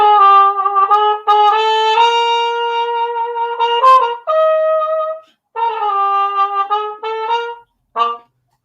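Trumpet played with a cup mute, a soft, rounded, muffled tone in a short jazzy phrase of held and tongued notes with brief pauses, close and solo.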